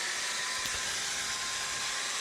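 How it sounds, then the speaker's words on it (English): Continuous loud whirring and abrasive rasp of an angle grinder fitted with a cut brush, stripping underseal from a Subaru body down to the original paint, steady and close with no break and no talking. "So that's the cut brush that I'm using on the angle grinder."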